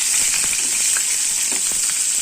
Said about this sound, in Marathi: कांदा फ्राय होतोय